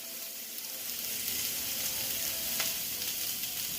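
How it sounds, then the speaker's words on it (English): Shrimp and vegetables stir-fry in a hot pan with a dense, even sizzle throughout, a single brief scrape of stirring partway through, heard close with no talking. "Give them a quick stir."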